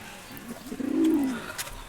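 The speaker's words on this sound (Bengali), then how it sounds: "এত বড় কবুতরগুলো" A caged pigeon gives one low, drawn-out coo, close and fairly soft, with faint rustling around it.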